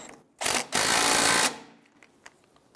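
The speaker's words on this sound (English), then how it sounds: "Tighten down the adjuster clamp." The adjuster clamp on the outer tie rod of a 1999-2004 Jeep Grand Cherokee being tightened, heard as a single short burst of a power tool running for about a second, loud and close, then quiet.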